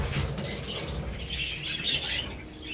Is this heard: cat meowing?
no